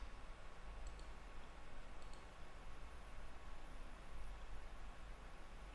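A computer mouse clicks twice, faint and close, about a second apart, over a steady background hiss while a password is entered and an account created.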